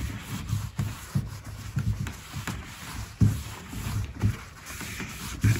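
A cloth rubs wax into dried-out antique wood on a bed crown under restoration, repeated close strokes in an uneven back-and-forth rhythm with no talking.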